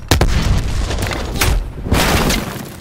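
A frag grenade exploding in Call of Duty: Black Ops Cold War, loud booming blasts with sharp cracks amid ongoing gunfire, dense and close.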